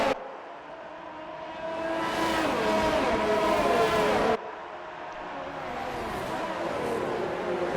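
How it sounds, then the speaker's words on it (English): An F1 2019 race car on the Austria circuit in a video game, its engine rising through the gears as it accelerates back to full racing speed, with a sharp gearshift break midway, loud and steady. "Looks like he's accelerating and we're back to full speed and racing"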